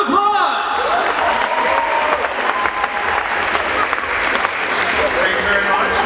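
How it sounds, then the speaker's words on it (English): A crowd at a Mr. Engineer contest claps enthusiastically for a contestant, continuous close applause throughout with voices and cheers mixed in. "Round of applause!"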